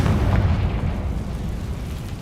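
Confringo fire spell explosion in the video game Hogwarts Legacy, a dense rumbling blast with a heavy low roar that holds steady and fades only slightly, loud and close with no talking over it.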